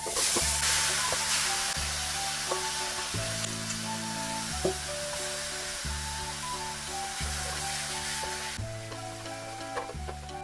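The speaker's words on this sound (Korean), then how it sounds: "전골팬에 식용유를 발라 코팅한 다음 팬이 달아오르면 양념한 고기를 넣어주세요." Marinated beef bulgogi sizzles steadily in a hot, oil-coated hot-pot pan, a constant close frying hiss broken by repeated scraping and stirring strokes in a regular rhythm, with no voices.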